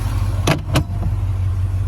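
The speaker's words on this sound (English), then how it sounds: "We can hear the exhaust at idle." A 1984 Porsche 928S exhaust idles with a steady low rumble, close by, with two brief sharp clicks or knocks early on.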